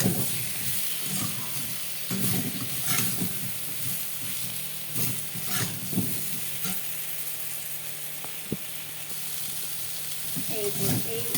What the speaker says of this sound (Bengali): এবার সবটা একসাথে সুন্দর করে আগে আমি ভেজে নেব